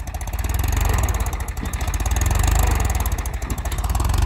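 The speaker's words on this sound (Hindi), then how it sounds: "भाई इस ट्रैक्टर की आधी चूड़ी तेल बढ़ा रखा भाई" A Mahindra 265 tractor engine runs with its throttle raised, a loud, steady, close diesel chug with a fast, even pulse and light mechanical clatter throughout.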